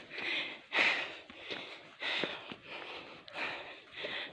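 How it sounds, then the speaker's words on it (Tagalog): Heavy, rapid breathing from a hiker walking a trail toward a village, close to the microphone, with repeated breathy huffs and sniffs in an uneven rhythm and no talking. "Narinig niyo yung hingal ko?"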